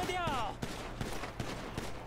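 Gunfire in Grand Theft Auto V: a sharp opening shot with a falling ricochet-like whine, then a steady run of separate loud bangs about every half second over a low rumbling bed.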